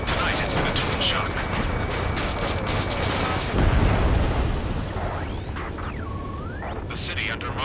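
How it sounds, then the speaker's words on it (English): Dense, loud rumbling bursts of gunfire, jet roar and explosions in the video game Ace Combat 7: Skies Unknown, with mechanical clatter, a heavier blast midway, and tonal game effects sweeping toward the end. "Gunfire and the roar of jets echoing through the streets"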